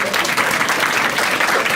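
Audience at a Marathi stand-up comedy show breaking into loud, sustained applause that fills the room, dense and continuous with crowd voices underneath.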